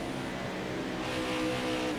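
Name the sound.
race car passing in the video game NASCAR Heat 5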